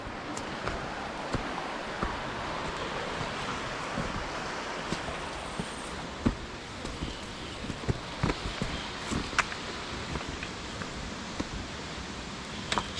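A noisy river in Manchester, Jamaica rushes in a continuous broadband roar, with scattered sharp clicks and bumps sounding over the steady flow.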